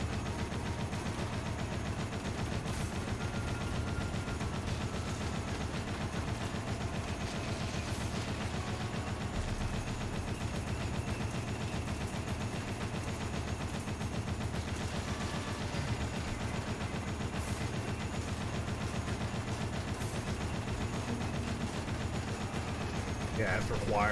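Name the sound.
turret machine gun fire in Dead Rising video game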